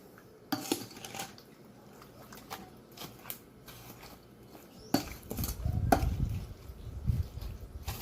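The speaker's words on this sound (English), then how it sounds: "I'll give this a stir" Salted, seasoned pork is stirred in a pot: scattered clinks and scrapes, then a denser, louder stretch of scraping and clattering toward the end.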